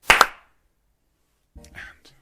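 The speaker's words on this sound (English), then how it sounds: "if I could ask you to clap after 4 for me" One sharp hand clap made to sync a recording, close and loud against silence, followed a moment later by a short murmur of a voice.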